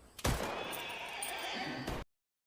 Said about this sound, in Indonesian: Tanpa sengaja, salah seorang anak buah Pablo menabrak seekor kuda